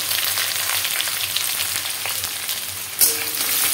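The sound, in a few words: chopped onions frying and being stirred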